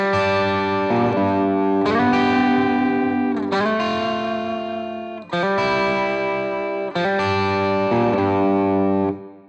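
Lead guitar tuned a whole step down plays the intro through heavy distortion, a loud sliding four-bar riff repeating with short breaks between phrases, played alone with no talk.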